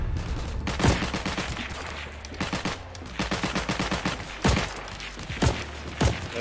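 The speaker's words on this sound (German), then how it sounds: "Da kann ich nur in die falsche Richtung schießen." Gunfire in the WWII shooter Heroes & Generals, loud rapid bursts of automatic fire and a few sharp single shots in irregular clusters, close and punchy, with no voices.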